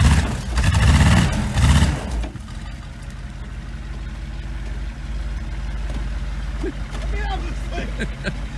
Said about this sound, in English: The four-wheel drive is working.